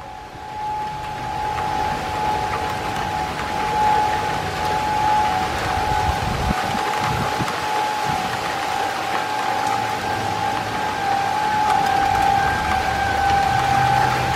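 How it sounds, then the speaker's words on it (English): Heavy rain pours down during a severe June thunderstorm in Independence, Missouri, a loud, continuous hiss that holds steady throughout, with a thin, steady tonal whine running underneath. "Here comes the heavy rain."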